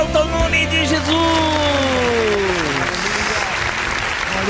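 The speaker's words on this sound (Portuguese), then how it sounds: "E as palmas exaltam o nome de Jesus" Congregation clapping together during a church worship service, a dense, sustained burst of applause with a voice and music carrying over it.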